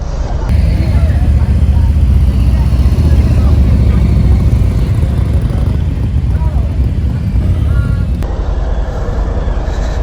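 A 2021 Harley-Davidson Street Bob with the 114 engine rumbles steadily and loud throughout a ride, with wind noise and a rider talking over it.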